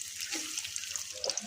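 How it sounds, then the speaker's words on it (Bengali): Cooking oil poured into a pan over bay leaves, a brief smooth liquid stream with light sizzle-like hiss, close and steady. "তেল ঢেলে দিলাম,"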